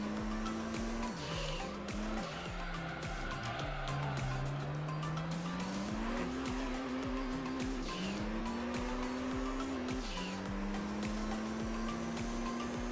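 An Integra race car in Gran Turismo 3 on Rome Circuit drones loudly and steadily, its engine pitch climbing and dropping through gear changes, with tire squeal mixed in.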